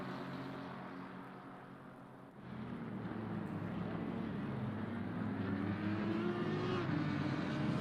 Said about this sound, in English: It seems like it might be here as they come down the start-finish straight.